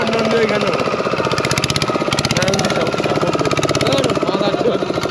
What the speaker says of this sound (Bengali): রকির বোট ছেড়ে দিয়েছে